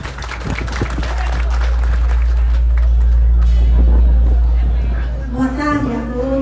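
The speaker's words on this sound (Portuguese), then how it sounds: "Lúcia, uma salva de palmas." Outdoor crowd applauds a councilwoman at a public event, with scattered clapping and crowd murmur over a heavy low rumble of amplified noise, ending with voices and sound-system tones.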